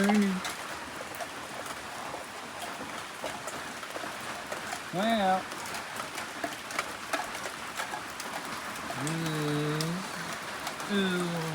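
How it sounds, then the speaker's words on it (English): Rain falls steadily outdoors beside a pool, a soft, even hiss, while a few bird calls rise over it and a person says a brief word. "sure enough, it's raining. It is raining."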